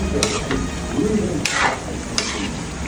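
Chicken kaldereta stirred in a pan, a utensil scraping in a few broad sweeps over a steady low simmering sizzle, close and moderately loud, with no talking.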